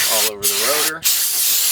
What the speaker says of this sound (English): Spray some brake clean on.